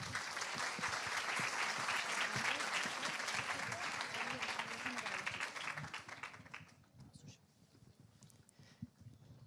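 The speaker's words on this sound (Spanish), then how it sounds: "Los recibimos con un fuerte aplauso." Applause from the audience at a national youth gathering welcoming the speakers, a dense burst of clapping that fades out after about six seconds, leaving a quieter room.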